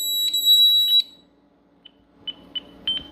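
A Honeywell home alarm system under test gives a loud, steady high-pitched tone for about a second, followed by short, fainter beeps spaced irregularly over a low background hum.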